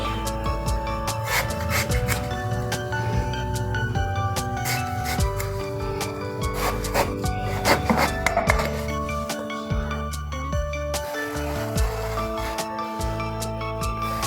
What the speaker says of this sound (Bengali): আমি বেগুনটা প্রথমে কেটে নিচ্ছি।